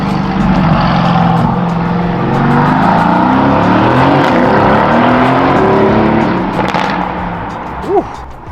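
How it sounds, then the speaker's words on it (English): A loud Mercedes-AMG GT S engine drones and revs, pitch rising and falling in waves, close and sustained throughout. "I didn't know my car was that loud."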